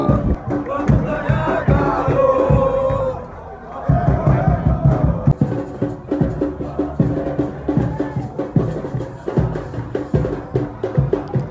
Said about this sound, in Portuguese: E a torcida continua aqui muito animada pro jogo.